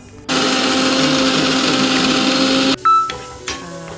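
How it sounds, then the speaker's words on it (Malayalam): A kitchen mixer grinder runs steadily on roasted coconut for a couple of seconds, a loud continuous whirring grind that cuts off abruptly, followed by a few clattering knocks as it stops. "ഇതുപോലെ തേങ്ങ വറുത്ത് ഈ ഒരു ഇതിലെത്തുമ്പോൾ അത് മിക്സിയിലിട്ട്"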